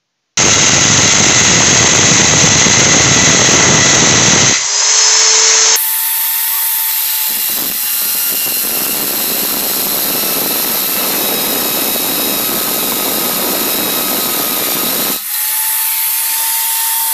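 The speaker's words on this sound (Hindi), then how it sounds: "अब इसमें हम ड्रिल करते हैं।" Electric drill boring into a switchboard during salon wiring work: a loud, steady whine runs for several seconds, pauses briefly, then resumes as a sustained high-pitched grinding drone through most of the clip.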